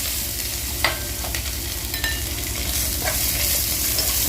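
Food sizzles loudly in a frying pan while a utensil stirs and scrapes through it, with several distinct knocks over a constant close frying hiss and no talking.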